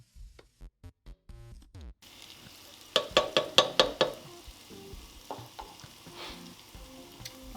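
Onion hitting hot oil in a pan for masoor dal, a steady close sizzle and crackle with a cluster of sharp metallic taps from stirring partway through, no voices.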